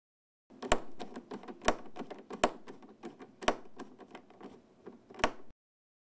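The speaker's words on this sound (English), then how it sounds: "Loosen the two captive Torx head screws near the bottom of the rear cover until each screw makes a clicking sound several times." Captive Torx screws click repeatedly as they are loosened on the rear cover of an HP ENVY Recline 27 all-in-one PC. The clicks are quick, close and dry, with a few sharper snaps among them, and nothing else is heard.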